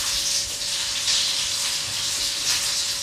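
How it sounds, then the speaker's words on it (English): Chopped onions frying in a very hot pan, giving a loud, continuous close-up sizzle and hiss that holds steady throughout, with no voices. "So here are my onions cooking away. The pan is very hot"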